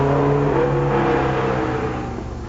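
A modified Skoda Rapid with a mid-mounted 165 bhp 2-litre Fiat twin-cam engine drones loudly and close, its steady engine note holding strong before easing off slightly toward the end.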